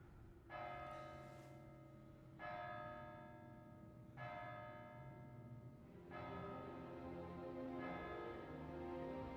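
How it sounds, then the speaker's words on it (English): A church bell tolls in the video game Kingdom Come: Deliverance 2, ringing five slow, evenly spaced strikes. Each strike is clear and resonant and rings out over a quiet backdrop with no talking. "That's the 8th bell."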